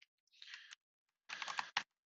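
Two quick bursts of typing on a computer keyboard, close and clear, with a short pause between them and a final sharp keystroke at the end.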